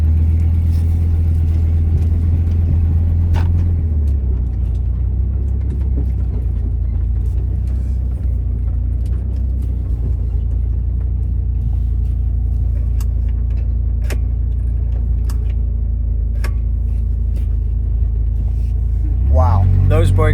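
A car on a slow test cruise gives a steady, close engine and road rumble that shifts lower early on and then holds even, with a brief rise in engine note near the end.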